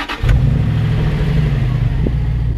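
A supercharged 4.2-litre V8 in a Jaguar XKR fires up, a brief starter whir and catch followed by a deep, loud, steady idle rumble, close by with no talk.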